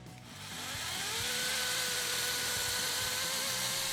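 A cordless chainsaw spins up and bites into a tree trunk during a back cut while felling, a steady, loud motor whine with a rising tone that holds throughout.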